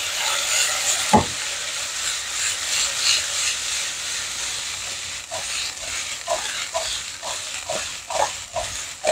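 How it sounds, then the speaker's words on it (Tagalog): Tofu frying and browning in a pan alongside pork belly, a continuous close sizzle with occasional pops and scrapes. "Ilagay natin ang ating tofu para mag-brown na rin."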